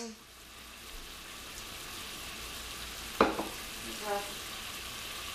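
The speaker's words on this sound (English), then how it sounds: "Meat is sauteing." Meat sautés in a hot stir-fry pan on a stove, giving a steady, faint sizzle with one sharp clatter and a few brief knocks from a utensil partway through.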